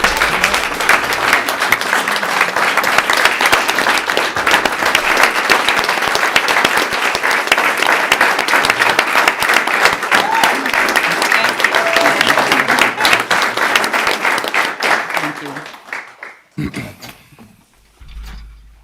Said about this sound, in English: So please, a round of applause for Dr.